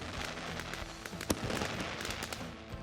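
Fireworks effect from a phone messaging app, with a steady run of crackling pops and small bursts and one sharper bang partway through, fairly close and continuous.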